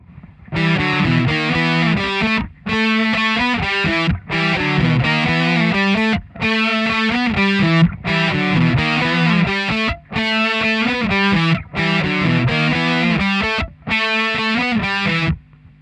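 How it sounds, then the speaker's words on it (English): A heavily distorted electric guitar plays the main riff of a song in loud, chugging repeated phrases split by short breaks, close and alone. "we'll start with the main riff that sounds like this"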